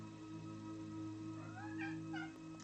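A kitten meows a few times, rising and falling cries over a steady low hum in a quiet room, soft and somewhat distant.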